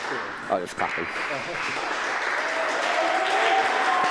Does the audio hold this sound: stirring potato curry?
no